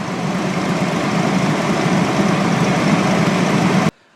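A cold van engine idles at raised RPM: a loud, steady, close droning rumble that cuts off abruptly at the end, with no talking.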